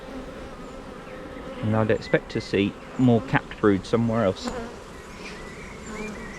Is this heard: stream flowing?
no